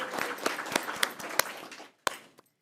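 A small audience at a school board meeting claps for students. The applause is sparse and uneven, with distinct individual claps standing out, then tapers off to a few last claps.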